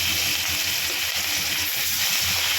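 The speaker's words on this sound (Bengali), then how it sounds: "হালকা একটু ভেজে নেব।" Hilsa fish frying in hot oil gives a steady, loud, broadband sizzle that hisses without pause, with no voices over it.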